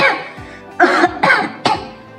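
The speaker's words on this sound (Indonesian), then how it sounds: "Waduh, ada banyak asap nih. Kita bisa jadi batuk-batuk." Three or four harsh coughs from a person reacting to smoke, close and loud, coming in a quick uneven burst with short gaps.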